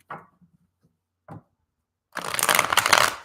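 Tarot cards shuffled by hand, a couple of soft card taps followed by a loud, close, continuous riffling rush of shuffling lasting about a second.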